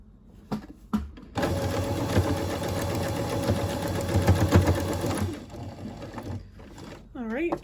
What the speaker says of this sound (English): You can also just put this under your machine and top stitch it closed, which is what I'm going to do.